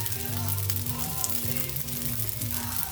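Soy sauce sizzles in a pan of frying rice, a steady crackling hiss with a low cooking hum underneath, close and moderately quiet.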